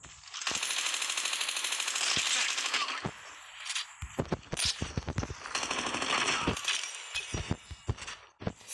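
Gunfire in Call of Duty Mobile's 1v1 Duel Saloon mode, with sustained bursts mixed with sharp single sniper-rifle cracks and glassy shattering impacts, irregular and close.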